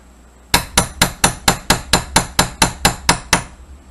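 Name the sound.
hammer driving a roll pin with a punch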